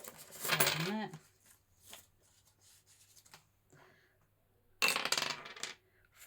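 Dice rolled during a Connect 4 board game, a sharp rattling clatter near the start and a second burst of clattering near the end, with quiet faint movement between.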